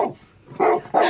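A dog in a children's audio drama barks a few times, short loud yaps close by, separated by a brief pause.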